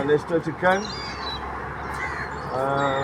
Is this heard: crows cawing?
yes